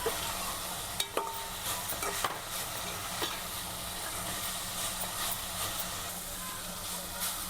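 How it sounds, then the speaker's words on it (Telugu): Tamarind and garlic cloves are stirred together in a hot pan for mint chutney, a steady soft sizzle broken by repeated clacks and scrapes of a spoon against the pan. "ఇందులోనే మనం తీసుకున్నటువంటి వెల్లుల్లిపాయలు కూడా వేసి ఒకసారి కలుపుకుందాం."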